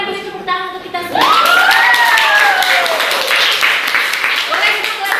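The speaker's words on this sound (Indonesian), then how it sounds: "boleh silakan beri tepuk tangan untuk kita semua" Schoolchildren in an Indonesian language classroom break into loud clapping and cheering after a teacher's voice, with excited shouts rising over the sustained applause.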